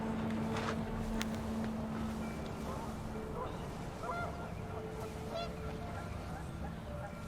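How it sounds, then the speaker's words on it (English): Panicked geese honk in a windy outdoor scene of the video game What Remains of Edith Finch, their calls scattered and fairly distant over a steady roar of wind, with no talking. "The wind picked up and panicked geese appeared and quickly went."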